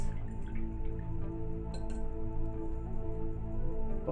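Paintbrushes rinsed in a water jar while painting with acrylics, giving soft continuous watery sloshing and light dripping with faint clinks against the glass, steady and close throughout, with no talking.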